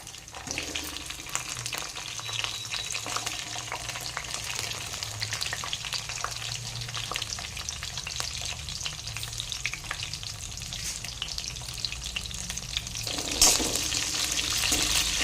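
Sliced onions frying in a pan with poppy seeds and spices, giving a strong steady sizzle and hiss with frequent scraping from stirring and a brief louder burst near the end.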